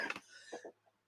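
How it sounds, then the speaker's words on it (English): A sharp, close cough followed by a couple of softer throat-clearing bursts, then quiet. "Excuse me for coughing in your ears."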